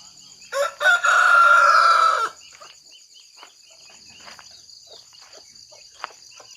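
A rooster crows once, loud and close, followed by steady insect chirping in a quiet rural background.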